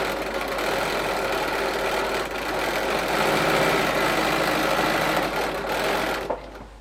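Sewing machine running a steady, fast mechanical stitch along a seam joining quilt strips, close and continuous for about six seconds before stopping.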